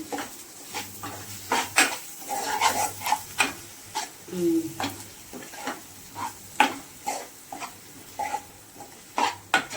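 Eggs and onions sizzle in a frying pan while a utensil scrapes and taps the pan over and over, a voice talking in between.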